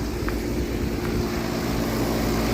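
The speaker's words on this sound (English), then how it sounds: "Just 4-ton unit running." A 2025 SureComfort SP14 4-ton heat pump using R454B refrigerant runs outdoors, giving a steady, loud, even whooshing hum with a low droning undertone that never varies.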